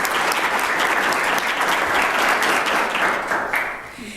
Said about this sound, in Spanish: Aplauso fuerte, por favor.